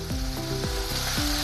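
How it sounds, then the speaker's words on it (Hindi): Chopped onions fry in hot oil in a pan for a spicy chili sabzi, making a dense, continuous close sizzle with a gliding tonal melody laid over it. "वो प्याज इसमें डालेंगे। अभी इसको थोड़ा कलर आने तक भूनेंगे।"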